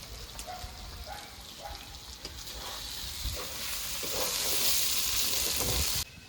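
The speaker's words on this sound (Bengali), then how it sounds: "মাংসটা ভালো করে কষানো হয়ে গেছে" Chicken pieces frying and being stirred in a hot pan for a chicken pasta dish, with a steady sizzle that swells louder toward the end and repeated stirring scrapes, no talking.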